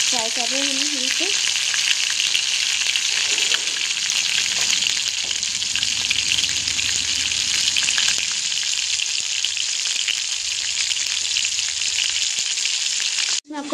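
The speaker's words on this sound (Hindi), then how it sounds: "तो अब तेल गर्म हो चुका है, तो इसमें हम डाल रहे हैं कबाब को, एक एक करके डालेंगे। तो हमने कढ़ाई में फ्राई कर रहे हैं हम इसे" Mutton kebabs frying in hot oil in a kadai, a loud, steady, dense sizzle that fills the whole stretch with a brief soft sound at the start and an abrupt cut at the end.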